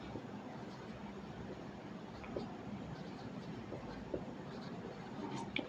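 Marker or chalk writing on a board during a biology lecture, heard as faint, continuous scratchy strokes over quiet room noise.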